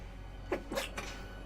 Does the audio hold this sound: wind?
no